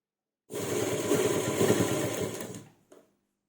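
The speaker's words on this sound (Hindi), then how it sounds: "वहाँ वहाँ पर हम सिलाई लगाएंगे।" A sewing machine stitches piping onto a round neckline in one steady run of about two seconds, close and even, then stops, followed by a faint click.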